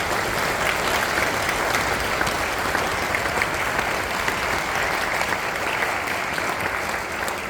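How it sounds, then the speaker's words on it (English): An audience at a youth orchestra spring concert gives sustained, even applause, a dense continuous patter of many hands clapping, moderately loud throughout. "let's give them one more round of applause"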